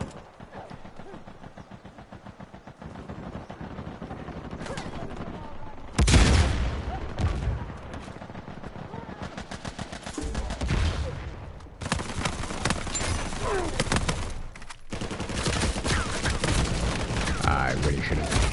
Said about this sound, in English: I really should have reloaded before aiming my gun at that person